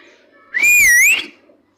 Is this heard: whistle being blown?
yes